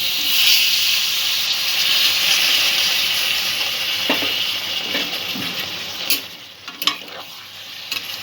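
Water added to a hot pan of frying pointed gourd and prawns for a Bengali kankrol curry, giving a steady loud sizzle and steamy hiss, with a few clinks and stirring knocks near the end.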